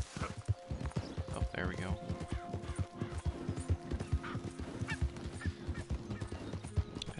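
Horse hooves clip-clop at a steady, fast gait as a rider spurs the mount on in Red Dead Redemption 2. A horse snorts now and then, a goose-like honk is heard, and someone talks briefly over the hoofbeats.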